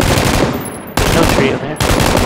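Rapid gunfire from a first-person shooter game, dense automatic bursts in near-continuous rattling volleys broken by brief gaps, loud and close.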